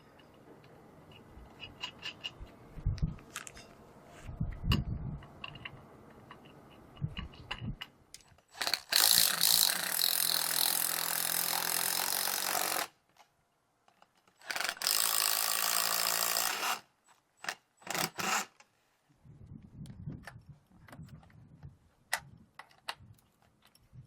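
A ratchet tightens 7/16 nylock nuts over grade 8 flat washers and a back washer plate on a cargo trailer, with quiet clicks at first, then two long loud bursts of rapid ratcheting separated by short pauses.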